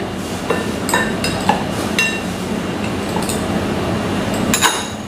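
Boiled rajma and salad ingredients are stirred in a bowl with a utensil, producing a series of close, crisp clinks and taps at irregular intervals.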